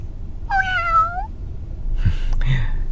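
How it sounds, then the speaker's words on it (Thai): Two cat meows near an electric meter at a house, the first a clear rising-falling call, the second shorter and breathier a moment later, over low background rumble. "มีแมวด้วย"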